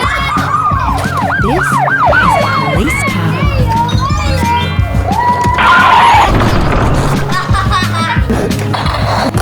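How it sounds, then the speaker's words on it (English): Toy police car siren wailing in rising and falling sweeps, then shifting into a rapid warble, loud and close, with a voice speaking over parts of it. "This is a police car."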